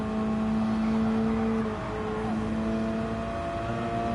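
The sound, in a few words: Subaru BRZ race car engine in a racing video game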